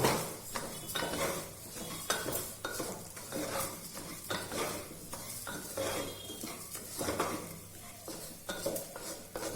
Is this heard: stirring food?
yes